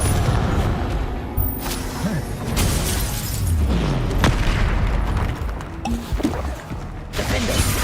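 Confringo fire spell blasts in the Hogwarts Legacy game, a dense barrage of booming explosions and crackling impacts, with a player's voice calling out spells over the combat.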